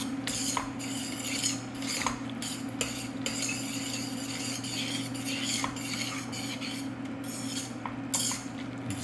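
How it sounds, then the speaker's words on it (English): Tagliatelle is stirred with olive oil in a pan, with steady scraping and light clinks of utensil against metal over a low sizzle, near and continuous without speech. "Stir it up nice, just like this."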